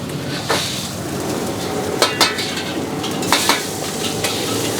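Chicken capcay stir-frying in a wok in a busy restaurant kitchen, with a constant loud sizzle and several sharp metallic clanks of the spatula scraping and striking the pan.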